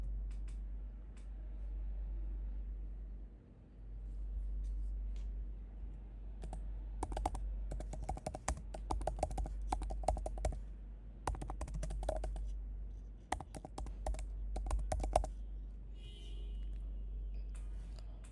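Typing on a computer keyboard during data entry: several short bursts of quick key clicks over a low steady hum, fairly faint, with quiet gaps between bursts.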